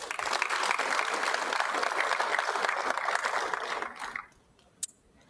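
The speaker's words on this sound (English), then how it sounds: "Can we give a round of applause?" An audience at a townhall forum on the budget and economy applauds, a dense, even burst of many hands clapping for about four seconds before fading out, followed by a single sharp knock.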